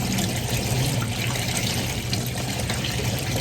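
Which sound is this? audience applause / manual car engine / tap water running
tap water running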